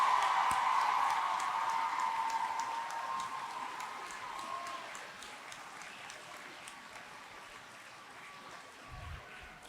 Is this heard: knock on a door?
no